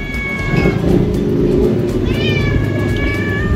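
A cat meows twice, with clear, drawn-out cries that rise and fall, close and loud over a constant low rumble of background noise outdoors.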